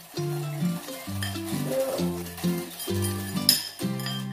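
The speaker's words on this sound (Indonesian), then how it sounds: "selagi Bang Daniel ngocok telurnya, aku mau hangatin ini susu dan krim" Eggs for custard are whisked in a bowl in a home kitchen, a steady rhythmic clinking and stirring up close over a bed of background music.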